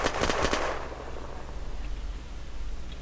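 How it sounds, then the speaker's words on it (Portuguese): Gunfire from a weapon in the video game Unturned: a quick burst of a few sharp shots at the very start, then a fading tail and quiet game ambience with no talk. "eu dei dois tiros"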